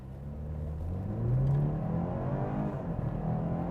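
A BMW 430i M Sport accelerates from standstill toward 100 km/h in Comfort mode, its engine giving a low, smooth, rising drone with gear-change dips, heard from inside the cabin at moderate level without speech.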